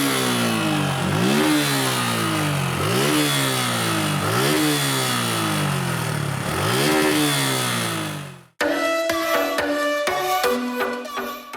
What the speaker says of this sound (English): the Gixxer is louder and definitely sounds better, especially in the top end where it's more eager to rev as well